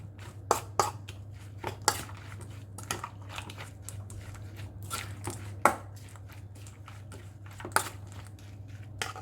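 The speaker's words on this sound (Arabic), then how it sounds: "تنحركوهم ندمجو بيناتهم" Cake batter of grated apple, nuts and two eggs being stirred and folded in a bowl, giving a run of uneven, close scraping and tapping strokes over a steady low hum, with no talking.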